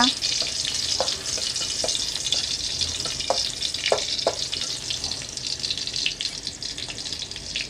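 Crushed garlic and vegetables stir-fry in hot oil in a pan with a steady close sizzle and scattered clinks of a spatula, no talk.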